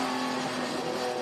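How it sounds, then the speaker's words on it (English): Touring Car Masters race cars at the Winton circuit in a 2018 race, braking hard from over 200 km/h: a loud, sustained engine roar holding a steady droning pitch close by, with no talk over it. "It's a big stop, over 200 k's an hour in these cars."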